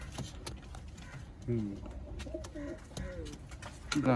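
Pigeons offered for sale coo in a series of soft, low warbling calls from about 1.5 seconds on, close by, with background noise and another voice around them.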